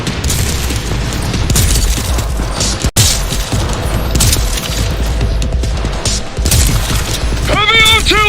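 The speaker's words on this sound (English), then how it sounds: "Heavy artillery!" Heavy artillery fire in a video game, a loud near-continuous barrage of booms and rapid gunfire with one abrupt cut, and game voices talking over it.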